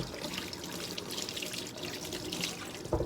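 Water runs over a K&N air filter being rinsed by hand, a close, steady splashing flow like a tap into a sink, with a brief louder knock at the end.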